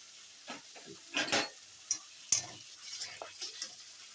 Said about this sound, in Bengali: এখন দিয়ে দিলাম বাটা মশলা দিয়ে ভালো করে কষিয়ে নিচ্ছি